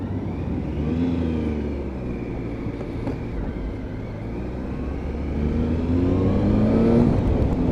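A Triumph Tiger 955i motorcycle engine pulls steadily up through the gears, a loud continuous rumbling drone with rising pitch sweeps as each gear winds out, heard up close from the ride.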